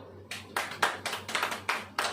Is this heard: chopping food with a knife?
no